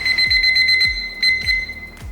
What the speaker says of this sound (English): Right, so that's been our timer set off